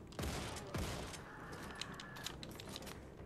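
Gunfire in Wolfenstein II: The New Colossus: two heavy blasts close together, then a scatter of fainter crackling shots over steady game background, with no talk.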